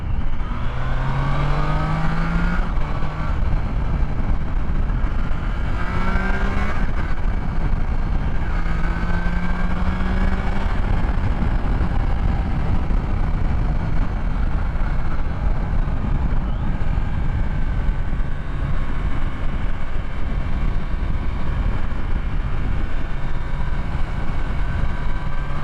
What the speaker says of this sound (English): So the engine of this bike.